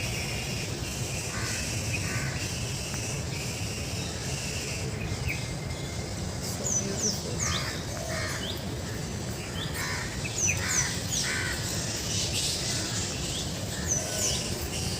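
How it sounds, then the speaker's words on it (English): Many birds chirp and call at once in an overlapping chorus over a steady background hum, and a person briefly speaks. "birds are in a choir"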